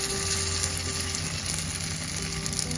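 Potato egg dosa batter fries in oil on a pan over low flame, giving a constant, dense, close sizzle with no pauses.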